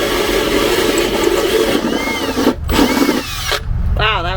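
A power drill bores a hole in a Sprinter van, whining loudly and continuously, briefly stopping and restarting, with speech mixed in near the end.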